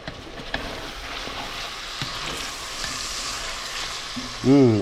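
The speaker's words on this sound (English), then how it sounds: "let's stir this again" A mountain-man breakfast casserole sizzles in a pan while it is stirred, a continuous close frying hiss with scraping spoon sounds, and a brief voice-like tone at the end.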